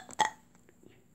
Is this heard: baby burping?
yes